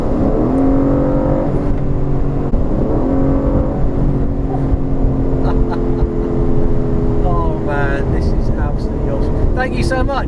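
An Aston Martin car engine hums and rises in pitch while driving, heard from inside the car, with steady road noise and people talking over it.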